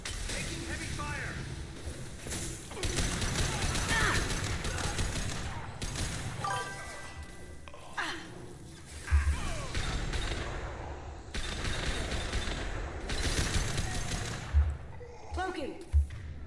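Combat gunfire in the video game Mass Effect 2: bursts of rapid shots and heavy impacts come in waves over a rumbling battle bed, with voices shouting between the volleys.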